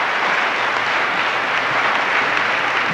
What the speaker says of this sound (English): and some of you applauded